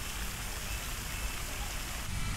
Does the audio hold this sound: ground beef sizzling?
no